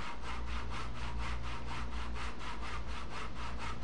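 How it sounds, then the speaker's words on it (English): A saw cuts grooves about an eighth of an inch deep into a wood rail support for linear slide bearings, a loud, steady rhythmic rasp of rapid strokes running continuously and close up. "Cut the grooves for the slide bearings."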